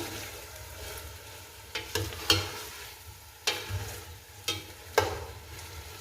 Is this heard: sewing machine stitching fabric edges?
no